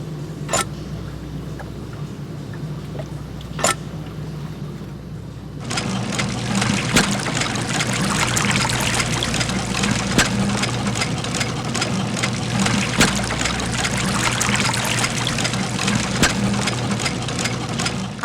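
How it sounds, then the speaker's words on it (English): Water draining from a flooded cistern in Sherlock Holmes: The Devil's Daughter, a steady rushing trickle over a low mechanical drone that grows louder and fuller after a few seconds, with occasional sharp clicks. "Ah, the water level's going down."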